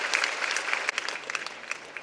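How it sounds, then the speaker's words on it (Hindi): Audience clapping at an anniversary commemoration event, a dense, continuous round of applause from a crowd, moderately loud and sustained for the whole two seconds with no voices over it. "एक बार हम जोरदार तालियों से इस परिवार का धन्यवाद करें।"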